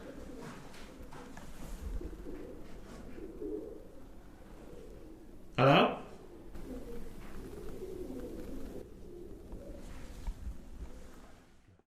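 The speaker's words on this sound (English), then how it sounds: "Could have been the pigeons." Pigeons coo low and throaty inside an abandoned building, a soft, murmuring, repeated burble in a quiet, echoing space. A man calls out once partway through.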